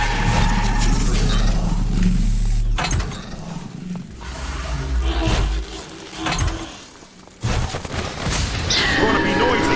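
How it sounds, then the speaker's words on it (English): A Berg shotgun fires in the video game Earthfall: loud, close blasts and mechanical clatter come in bursts, broken by quieter gaps and mixed with shouting voices. "There's a Berg shotgun!"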